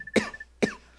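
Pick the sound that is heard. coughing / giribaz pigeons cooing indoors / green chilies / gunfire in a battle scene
coughing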